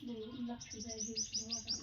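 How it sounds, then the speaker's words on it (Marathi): Sparrows chirp in a hot midday setting, a steady run of quick high tweets and short calls overlapping a lower voice-like murmur, fairly faint and close. "चिमण्यांचं कसं चाललंय"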